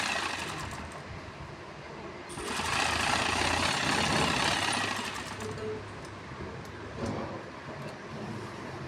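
A sewing machine stitches an embroidered cuff for a garment in a boutique, with a steady rapid rattling whir close by that swells louder in the middle stretch before settling back.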